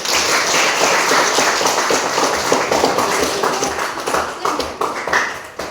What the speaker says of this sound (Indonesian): Tepuk tangan untuk Virgi dulu